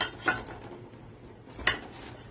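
A potato and onion mixture is mixed in a bowl, with two brief, light utensil scrapes against the bowl a little over a second apart and quiet shuffling between them.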